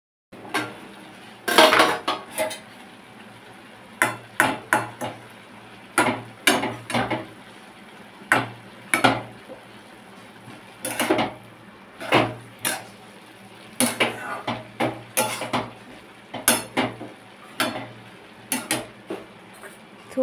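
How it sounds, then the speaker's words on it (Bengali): Potato and banana stem being stirred in a metal pot, a spoon clanking and scraping in uneven bursts, then a lid knocking on as the pot is covered. "আলু আর থোড় ভালো করে মিশিয়ে নেবার পর অল্প একটু জল দেব, দিয়ে ঢাকা দেব সেদ্ধ হওয়ার জন্য।"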